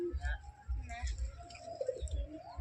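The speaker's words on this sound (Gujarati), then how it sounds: "કબૂતર એટલે કબૂતર છે હો સાગરભાઈના આપણા" Pigeons coo in low, throaty pulses that come in short bursts, quiet and near, with people talking in the background.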